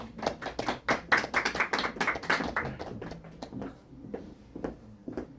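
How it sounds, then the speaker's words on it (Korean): Scattered applause from an audience welcoming a freelance lecturer at a university-admissions information session, a small group clapping unevenly in a room, fairly quiet, thinning out toward the end. "박수로 환영해 주시죠."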